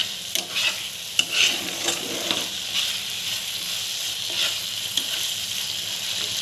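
Mustard fish paste frying in oil sizzles and hisses steadily, broken by scattered spatula scrapes and stirring knocks, close and fairly loud, with no one talking.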